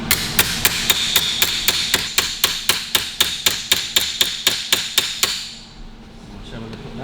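A hammer strikes a steel car body repair patch panel held on a dolly, about twenty sharp ringing metallic blows in an even quick rhythm, close and loud, then stopping with a faint tail of room noise.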